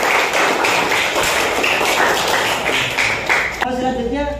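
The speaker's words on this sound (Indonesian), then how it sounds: "Tepuk tangan untuk kalian." A classroom of students applauds a presenting group, giving a dense, continuous patter of many hands clapping at steady volume that stops abruptly near the end, followed by a voice speaking.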